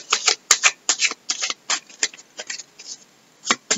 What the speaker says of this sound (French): les cartes qui glissent, ça m'a déjà fait ça pour le précédent tirage